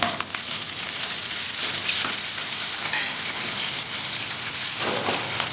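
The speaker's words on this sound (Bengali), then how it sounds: "পেঁয়াজটা একটু ভাজা ভাজা করে নেবো" Onions fry in a pan with lentils, giving a steady, even sizzle that runs unbroken and fairly close, with no voices over it.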